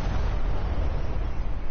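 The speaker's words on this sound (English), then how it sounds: "big explosion." Big explosion in the Sniper Elite 4 video game, a dense, loud, continuous roaring blast with heavy low rumble filling the whole moment, no talk over it.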